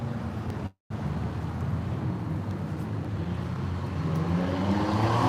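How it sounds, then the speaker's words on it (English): A loud car drives past at a street-corner intersection on Ravenwood, its steady engine rumble filling the scene, with wind buffeting the mic and a brief dropout near the start. "This is a loud ass car right at the corner of Ravenwood."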